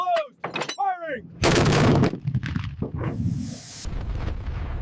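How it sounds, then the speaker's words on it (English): The Schwerer Gustav World War II railway cannon fires a round, a sudden loud, broad blast with a rumbling tail, preceded by short voiced calls and followed by lingering noise. "Load the 6th round. Shell seated. Breach closed. Firing."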